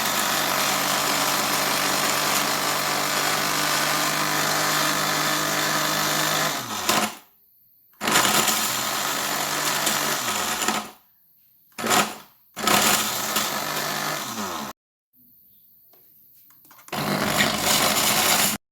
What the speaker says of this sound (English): I'm just going to grind it and then store it.